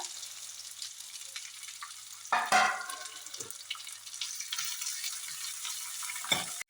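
Chopped onions and curry leaves fry in hot oil in a pan for a home-cooked masala rice lunch, a soft steady sizzle broken by a few sharp scraping stirs.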